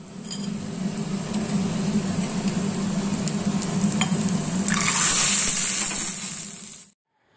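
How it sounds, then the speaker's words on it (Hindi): Hot spices hit cooked dal for a tempering, giving a loud close sizzle with stirring and utensil clinks that swells midway and stops abruptly near the end. "अब इसे छौंका लगाएंगे और हमारा जो लंच है वो रेडी हो जाएगा"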